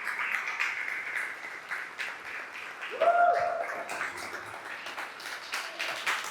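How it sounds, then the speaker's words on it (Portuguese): A church congregation claps in scattered, uneven applause while a voice rises briefly in the middle, the clapping moderately loud and fairly close. "uma salva de palmas a Ele"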